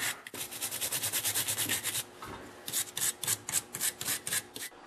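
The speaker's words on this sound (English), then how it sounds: "I'm going to use a small wire brush just to wire the dust out." A small wire brush scrubs burnt carbon from the spark arrester of a STIHL grass trimmer, making close, steady rasping strokes that quicken into a distinct back-and-forth rhythm.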